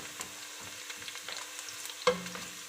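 Gentle sizzling and crackling of garlic and onion frying in a pan, quiet and steady, with a sharper pop near the end.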